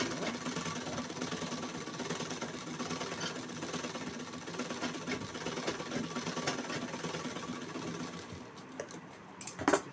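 A sewing machine stitches a blouse at a fast, even clatter for about eight seconds, then slows and stops with a few separate clicks.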